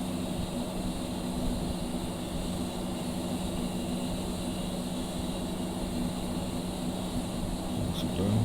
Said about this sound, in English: Engine start cycle is still on.